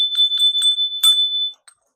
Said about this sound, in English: And then this bell,